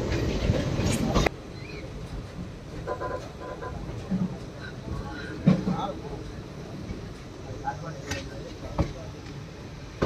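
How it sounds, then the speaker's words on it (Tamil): A Palakkad-Chennai Superfast Express train rolls into Karur Junction, with low rumbling rail noise, occasional clanks and knocks near and far, and a voice talking over it. "நம்ம ட்ரெயின் இப்போ அரைவாயிட்டுருக்க ஸ்டேஷன் கரூர் ஜங்ஷனுங்க"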